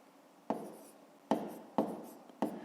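A pen writes numbers on paper for a column subtraction exercise, producing four separate close scratchy strokes, each starting sharply and trailing off, against a quiet background.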